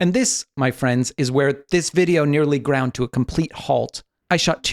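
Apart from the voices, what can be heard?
None of the usual background noises is heard.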